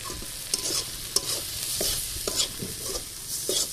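Fried onion and spice mix with gram flour being stirred in a pan, gentle sizzling broken by regular scraping strokes of a spoon roughly every half second.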